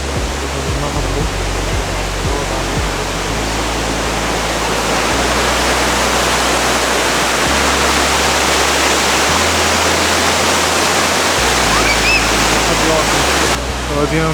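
A river in Borjomi, Georgia rushes loudly and steadily, a dense close roar of flowing water with a low wind-like rumble and no break throughout.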